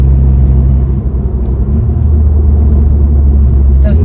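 A Volkswagen Golf 6 GTI on air suspension drones with a heavy low engine rumble close by, steady and loud, as it pulls ahead.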